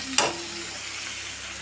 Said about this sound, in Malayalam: മറ്റേ മുറിച്ചിട്ട് നമ്മൾ കഴുകി വെച്ച കൂന്തൽ നമുക്ക് ഇതിലേക്ക് ഇട്ടുകൊടുക്കണം